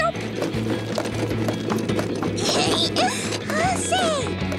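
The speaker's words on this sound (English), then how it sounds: "Horsey!" Cartoon horse hooves clip-clop in a steady, brisk rhythm beneath rattling mechanical noise, while voices exclaim and squeal over them near the end.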